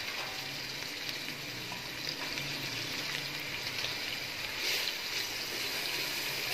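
Browned onions get stirred into kofta biryani in a pan, a steady soft sizzle with faint scraping and wet mixing sounds running quietly throughout.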